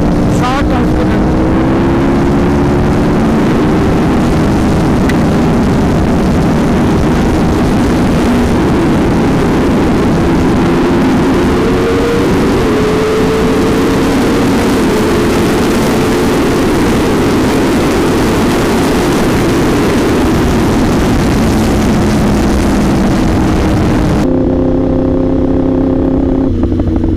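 A Yamaha R1 sportbike screams through a short top-speed run, its engine note rising in pitch as it climbs through the gears with loud wind rush, then cuts off abruptly near the end.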